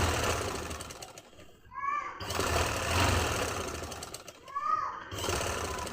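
Sewing machine stitching a trouser seam, a steady mechanical whir that runs through most of the stretch and pauses twice briefly, with faint background voices.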